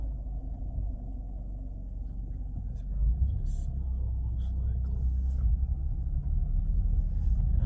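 Mitsubishi Eclipse on the road after front strut, hub bearing and control arm repairs, a steady low engine and road rumble from inside the cabin that grows slightly louder partway through.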